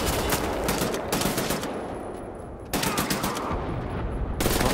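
Continuous gunfire from the shooter game Wolfenstein: The New Order, heavy and close, with dense rapid bursts that briefly ease off mid-way before loud firing resumes.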